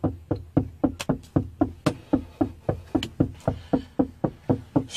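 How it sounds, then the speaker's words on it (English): A police officer knocks on a car window, a close, loud series of sharp raps in a steady rhythm repeating about three times a second throughout, with no talking. "He been knocking for about 10 minutes."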